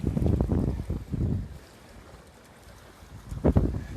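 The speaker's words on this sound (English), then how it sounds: "Can you hear the water?" Lake water at Skaneateles, New York, heard from a phone held above it: low splashing and lapping with wind buffeting the microphone, louder at the start and again near the end.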